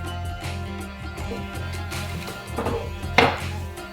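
A knife slices off the top layer of an Onam-style cake resting on a silicone mat, with soft scraping strokes building to a sharper cutting burst near the end, close and alone without talk.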